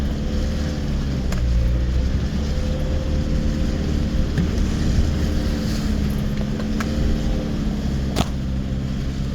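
A truck pulls out from a spot left messy after a trailer axle collapsed while moving bee hives, its engine a steady low rumble throughout with a few sharp clicks and knocks over it.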